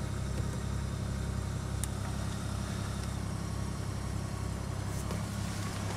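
A car engine idling steadily after a cold start, a constant low rumble with a faint higher whine and occasional small clicks, with no talking over it.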